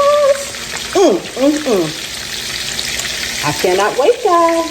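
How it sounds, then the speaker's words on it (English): Pork rind crusted chops fry in a pan with a steady loud sizzle, while a voice speaks over the crackling. "We're going to let these pork rind chops cook on the second side."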